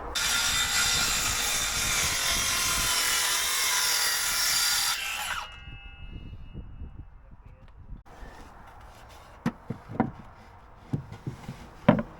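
A power saw whines loudly, cutting wood for a step during a build, for about five seconds before stopping abruptly. Softer clatter and a few sharp knocks follow as pieces are handled, with some speech.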